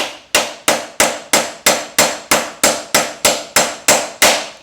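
A hammer taps a suspension bearing into a Trek Rail bike frame: about thirteen sharp, evenly spaced metallic strikes, loud and close, each ringing briefly before the next.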